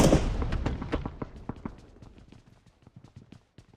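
A grenade goes off in PUBG Mobile, a loud booming blast at the start whose rumbling tail decays into scattered crackling pops over several seconds.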